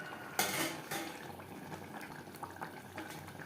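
Spice-washing water being poured into a pot of potato and mutton curry on a medium flame, with a quick splash followed by faint clinks of utensils against the pot in a quiet kitchen.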